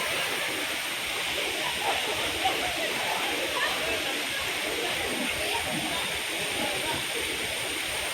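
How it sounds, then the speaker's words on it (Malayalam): A stream running beside a temple, with a constant close rush of flowing water and faint bird calls in the background. "തോടാണിത്"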